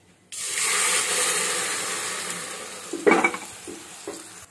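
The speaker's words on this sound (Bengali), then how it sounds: "এবার শাকটা ভাজবো" Leafy greens drop into hot oil with mustard seeds and chili, bursting into a loud sizzle that slowly settles, followed by a few clanks of a spatula against the pan.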